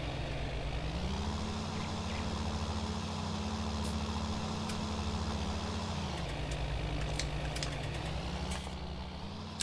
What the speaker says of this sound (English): Maybe it is this tractor just being so damn loud.